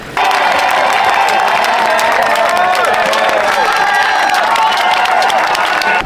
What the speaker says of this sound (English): The crowds were going crazy as the cyclists came through